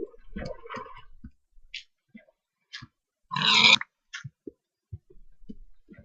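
Pig grunts and short game clicks in the video game Minecraft, sparse and separated by silence, with one louder burst of noise midway.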